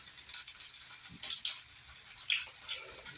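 Thick hashbrowns frying in hot oil in a pan, a steady soft sizzle with brief crackles and small spikes as the potato settles, heard close and alone.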